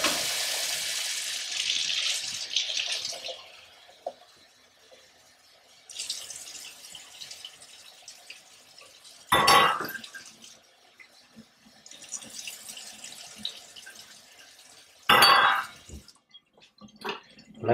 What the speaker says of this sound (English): next we're going to add 1½ cups of hot water, and it's going to be the hottest water that'll come out of my tap